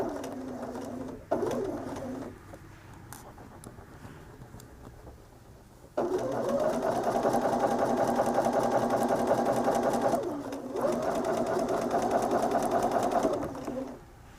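A sewing machine stitches a quilt seam in several bursts of steady motor whir, two short runs and then two long continuous ones separated by brief pauses.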